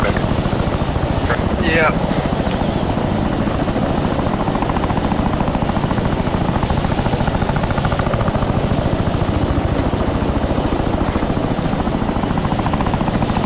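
A helicopter in a military video game drones as a steady, loud rotor wash through the whole stretch, close and continuous, with a brief voice speaking over it.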